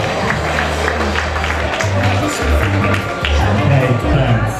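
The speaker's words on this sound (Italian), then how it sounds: "però un applauso più grande, lei è Sara Cozzalini" A crowd applauds a contestant at the Miss and Mister Friuli 2013 pageant with steady, dense, loud clapping that runs throughout, layered with crowd noise and a low droning background.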